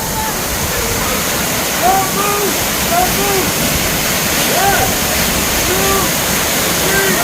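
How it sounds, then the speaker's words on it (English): Waterfall at Dinkey Creek roaring steadily as a broad, continuous wash of rushing water, with people talking and calling out over it throughout. "Look at all that water coming down."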